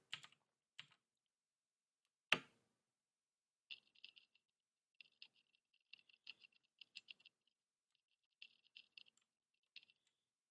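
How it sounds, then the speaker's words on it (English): Computer keyboard typing in short, quiet bursts of clicks, preceded by a few louder isolated knocks, heard close and alone against near silence. "there's some typing sounds"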